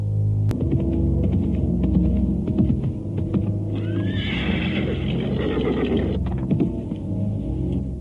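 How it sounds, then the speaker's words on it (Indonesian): Horse hooves galloping closer in an Indonesian radio drama, a steady clip-clop rhythm under a low hum, with a horse neighing loudly partway through. "Aku mendengar derap kuda menuju kemari."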